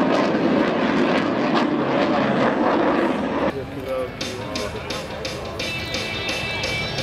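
A C-17 transport aircraft's engines roar loudly and steadily, then the sound shifts to a lighter, pulsing engine hum; a voice speaks over the roar.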